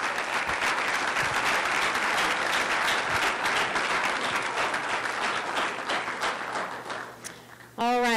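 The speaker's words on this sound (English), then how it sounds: "can we get a round of applause for our coaches?" An audience at a college student achievement awards ceremony claps for the coaches in steady, dense applause lasting several seconds, ending abruptly as a voice starts speaking.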